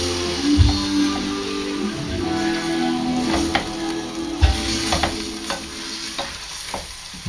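Carrots and celery stirred in a pot while they sizzle for a BBQ duck udon soup, a continuous close frying hiss broken by spoon scrapes and knocks against the pot, with no talking.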